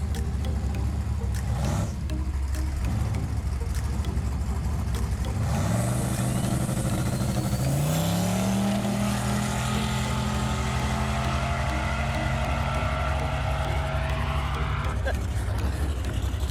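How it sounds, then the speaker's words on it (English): A turbocharged LS-swapped Fox body car does a burnout at a drag strip, its engine roaring loud and steady with rising revs and tire noise, while people talk over it. "A little aggressive on the burnout, Jeff."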